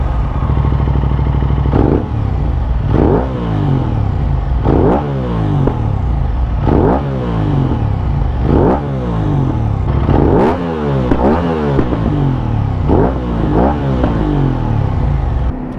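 Aprilia RS 660 sport motorcycle engine revving loud and close in repeated bursts, each rev climbing and falling away, roughly every two seconds over steady engine drone, with no talking.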